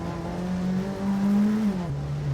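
A Peugeot 205 Turbo 16 engine held under load, then a heel-toe downshift with a quick throttle blip that lifts the tone before it drops to a lower note, close and loud.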